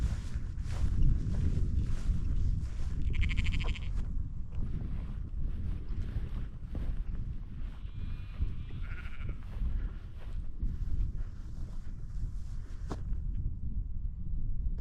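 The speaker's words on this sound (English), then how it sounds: "Well, apart from a load of sheep as well" Sheep bleat in open countryside, a few distinct calls rising over steady wind buffeting the microphone, moderately close with rustling throughout.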